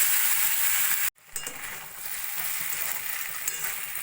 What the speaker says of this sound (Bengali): দিয়ে দেবো 4-5টা কাঁচা লঙ্কা কুচিয়ে নেওয়া, দিয়ে কিছুক্ষণ ভাজা ভাজা করে নেব